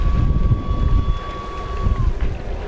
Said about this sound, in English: that wind is picking up to the point where it's hard to turn it around